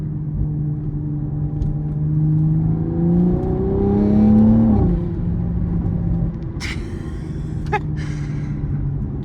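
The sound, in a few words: Toyota Supra exhaust sound while driving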